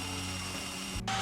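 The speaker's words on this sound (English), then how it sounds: "Now in order for these Z brackets to work with this panel, we're going to drill some holes." A power drill bores holes in metal Z brackets for mounting a 200W solar panel on a DIY truck camper, a loud continuous whine that briefly cuts out and then spins back up.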